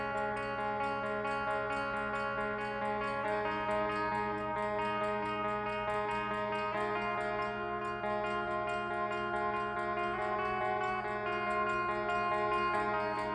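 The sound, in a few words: electric guitar picking riff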